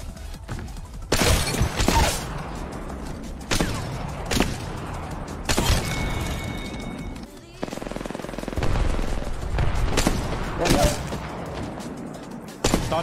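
Gunshots in the Apex Legends battle royale game, with loud close bursts of automatic fire and sharp single cracks repeating in uneven clusters, mixed with glassy impact sounds while a voice talks in between.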